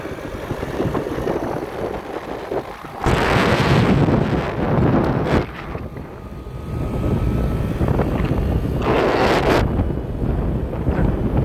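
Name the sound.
strong wind blowing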